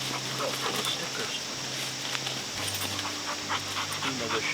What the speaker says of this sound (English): Nina the shed dog.